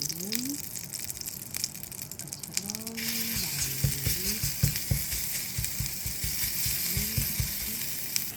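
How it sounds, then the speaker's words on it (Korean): Garlic and blanched mulberry leaves sizzle and crackle in a hot pan while a utensil stirs and scrapes, with steady frying hiss and repeated clicking knocks close by. "마늘을 볶고 뽕잎을 볶을 거예요."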